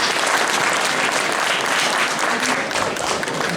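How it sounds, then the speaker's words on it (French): Steady, dense applause from an audience at a live concert, loud and continuous throughout, with crowd noise blended in. "Et on peut applaudir Tony qui est juste à côté aussi"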